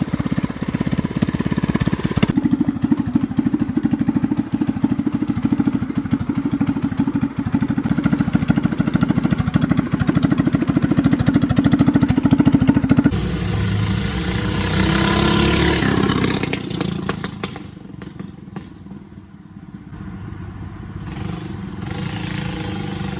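A motorcycle with upgraded carburetor jets idles with a steady mid-pitched drone, then revs up loudly as it passes close by and fades into a quieter idle, with no talk over it.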